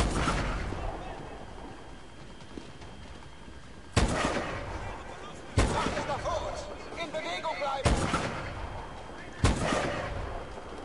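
Gunfire in Call of Duty Advanced Warfare cracks out as four sharp, loud shots spaced a second or two apart, with a German-speaking player talking between them over low battlefield ambience.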